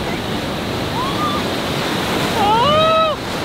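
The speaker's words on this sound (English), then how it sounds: "That's a pretty good wave." Ocean surf on the California coast, a steady loud wash of breaking waves with wind across the microphone and a few whoops and shouts rising over it.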